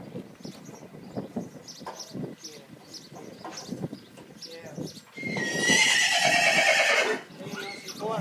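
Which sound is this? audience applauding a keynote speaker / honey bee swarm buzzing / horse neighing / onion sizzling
horse neighing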